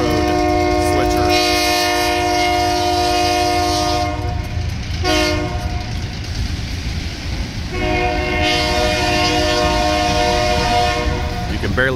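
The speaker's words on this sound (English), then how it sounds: "Switcher up front is the old Southern Railroad switcher." An old Southern Railroad diesel switcher locomotive idles with a rumbling engine while its horn sounds in long, loud blasts, pausing for several seconds before blaring again.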